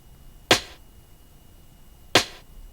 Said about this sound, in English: I also changed the snare drum to this sort of rim shot sound.